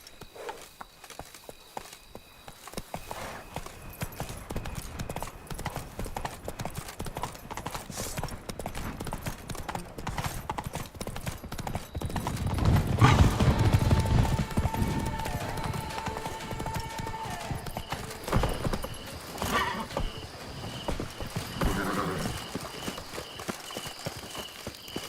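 Horse hooves clip-clop at a gallop in The Witcher 3: Wild Hunt, a steady drumming rhythm that swells in the middle and carries on under game sounds, with brief voices heard over it.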